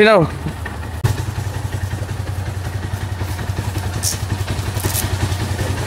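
Motorcycles idle and rev as riders set off, a steady rapid engine putter close by after a sharp start, with a person talking over it.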